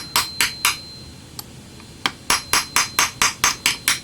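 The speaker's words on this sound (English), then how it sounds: "I'll try a brass punch on this edge here." Brass punch struck with a hammer against an edge of a 1969 Weihrauch HW55M match air rifle part, giving sharp metallic taps: three quick blows, a pause with a faint tap, then a steady run of about nine evenly spaced strikes, close and alone.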